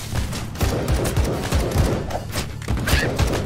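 Rapid gunfire from an AK and a carbine in the video game AK-Xolotl, dense overlapping shots in a steady rattling stream with game music underneath.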